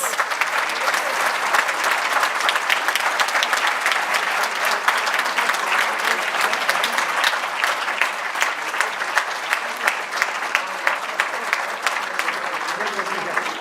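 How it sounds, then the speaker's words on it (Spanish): Sustained applause from a sizable audience at an awards ceremony, steady dense clapping at a moderate level throughout, with a few louder claps standing out. "Y un enorme aplauso a nuestro panel"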